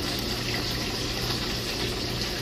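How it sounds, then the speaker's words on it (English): Cold water pours into a bowl in a dense, steady, close rushing splash that continues without a break from start to finish. "Going to get you some cold water,"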